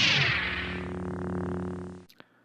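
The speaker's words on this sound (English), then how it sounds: "he helped create that sound by combining the hum of an idle film projector and the buzz from an old TV set" A Star Wars sound effect built from the hum of an idle film projector and the buzz of an old television set: a steady, buzzing drone that fades out, followed by a brief sharp click.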